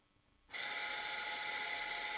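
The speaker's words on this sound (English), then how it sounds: "And now we can hear the brake release" Electronic parking brake motor on a vehicle releasing, switching on abruptly after a quiet moment into a steady, close high-pitched electric whir that continues evenly.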